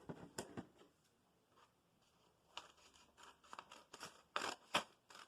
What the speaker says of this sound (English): And then I'm just going to cut along that fold.